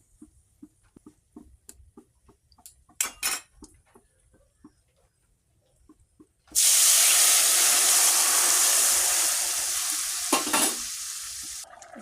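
Chana dal is tipped into hot oil with turmeric, and after scattered soft taps and clinks a loud, sudden hiss erupts. It settles into a steady, close, crackling sizzle that carries on with a faint clatter.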